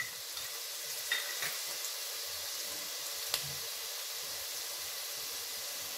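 Garlic paste frying in a pan for a bean khichdi, a soft, steady sizzle heard close and fairly quiet, with a couple of light clinks from stirring.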